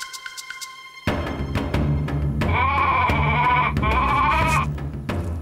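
A cartoon sheep, used as bait in a Lucky Luke tiger hunt, bleats loudly in two wavering cries over a busy, dense backdrop of music and effects that starts after a few soft taps.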